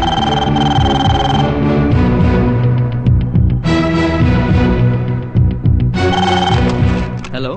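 A telephone rings loudly in a Telugu movie scene, repeated bursts of ringing with brief gaps, close and dominant, with no talk over it.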